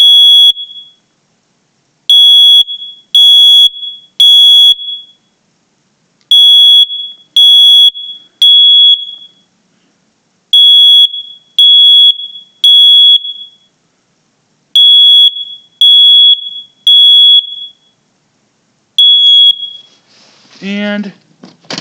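Simplex 4903 9236, Firex and Kidde smoke alarms under test, sounding loud, piercing high beeps in repeated groups of three with short silent gaps, followed by a brief burst of talk at the end.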